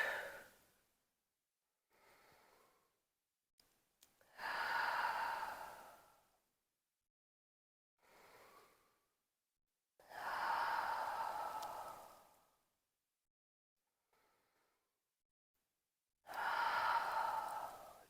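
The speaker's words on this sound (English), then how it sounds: "Taking one more full cycle of breath," Slow yoga breathing, with several long audible inhales and exhales close to the mic. Each breath lasts a couple of seconds, with quiet pauses in between and some softer, shorter breaths among the louder ones.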